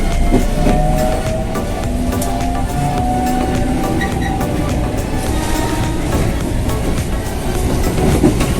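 A Jabodetabek Commuter Line train rolls along the rails, heard from inside the carriage as a loud, steady rumble with rhythmic clickety-clack over the track joints throughout.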